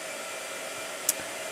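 A blow dryer runs in a steady, even whoosh throughout, with a brief sharp click partway through.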